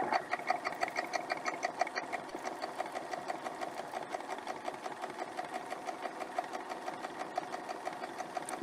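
A sewing machine stitches along a quilt template line with a fast, even mechanical chatter and rattle that runs continuously at moderate loudness, with a brief pause.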